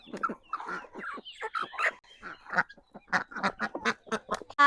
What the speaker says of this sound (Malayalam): താറാവും കോയും കിനിക്കോയും ടർക്കി കോയും ഒക്കെ വന്നിട്ടുണ്ട്